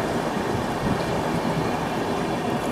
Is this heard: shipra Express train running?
yes